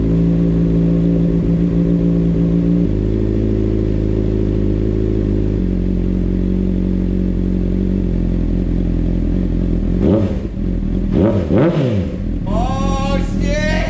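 A Honda CBR600 motorcycle fitted with an Invidia N1 exhaust tip idles loudly up close, its pitch stepping gradually, then revs sharply twice before settling, with a voice briefly heard at the end.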